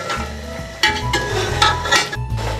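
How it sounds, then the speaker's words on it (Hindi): Mutton bones stirred and fried in masala in a pot, giving a steady sizzle with scraping and clinking of a spoon against the metal, close and alone with no voices. "अब हम इसमें यह हड्डी गुड्डी जो हमने गलाई थी ये ऐड कर रहे हैं। इसे अच्छी तरह मिलाएंगे और इस मसाले में भून लेंगे इसे अच्छी तरह।"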